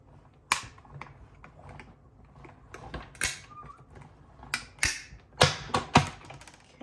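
Paper and a cutting plate sandwich being pushed through a manual die-cutting machine while making a Stampin' Up! Christmas card, giving a run of sharp clicks and crunchy mechanical taps close by, with a few louder bursts toward the end.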